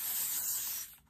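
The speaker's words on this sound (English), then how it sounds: "I'll go around with the Airwick Soft Cotton. This is my favorite spray ever." A short, close hiss from an Airwick Soft Cotton aerosol air freshener lasts about a second and then cuts off.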